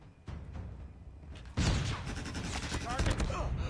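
Rapid bursts of video-game gunfire during a competitive multiplayer shooter match, dense and loud, growing heavier partway through with overlapping shots and faint voices mixed in.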